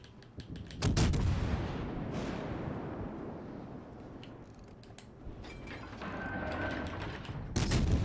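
Destroyer guns firing in World of Warships Legends: heavy booming salvos at the start and end with rumbling decay and mechanical creaks between, the loud blasts standing out over a lower continuous roar.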